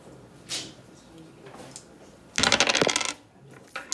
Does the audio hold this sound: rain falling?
no